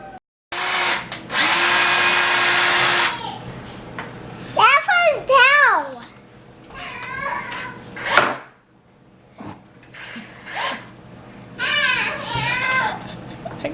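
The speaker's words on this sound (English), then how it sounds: "So I'm gonna go ahead and drill a small 1/8 inch pilot hole" Power drill boring a small 1/8 inch pilot hole into a steer's horn, a loud whirring burst lasting a couple of seconds near the start, followed by children talking and calling out.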